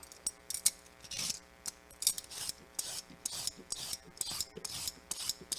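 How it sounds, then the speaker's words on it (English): Carrots are peeled with a hand peeler, close and clear, in a run of short, scraping strokes that come in an uneven rhythm, with no talking. "I love the sound of peeling."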